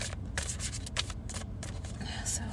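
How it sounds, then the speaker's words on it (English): Tarot cards are shuffled by hand in humid air, a soft, close riffling and rubbing in quick bursts, with a person talking quietly alongside. "These cards are a little there's a lot of humidity in the air, so I feel like they're not shuffling quite as well."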